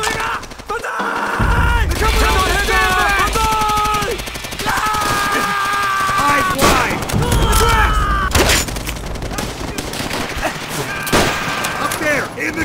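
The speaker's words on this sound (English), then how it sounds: "Sniper fire!" Battle gunfire in Call of Duty: World at War, sustained rattling fusillade with repeated sharp cracks over a dense, loud wartime din, with shouting voices mixed in throughout.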